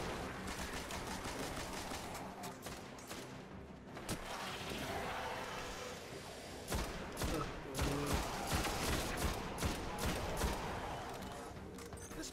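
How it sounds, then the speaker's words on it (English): Scout rifle fire in the video game Destiny: Rise of Iron, set in the Sepiks Perfected strike mission: rapid, loud crackling volleys of shots with booming impacts, dense and continuous across the whole stretch, with no talking. "I'll try this new scout rifle."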